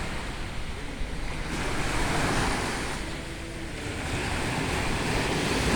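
Waves washing onto the shore at Pohe beach in Gorontalo, a continuous broad roar of surf that swells and eases, with wind noise over it and no talking.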